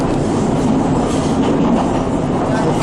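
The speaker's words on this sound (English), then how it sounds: "Since the track repair, the train actually seems to be running faster and smoother." A passenger train runs along a recently repaired track near Tres Rios in Costa Rica, giving a loud, steady, close rumble of wheels and carriages that holds through the whole stretch, with no talking.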